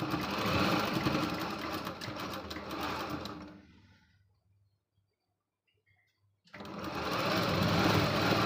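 A sewing machine stitches tucks into a blouse with a steady rapid whir. It stops for a couple of seconds of near silence, then starts again just as loud.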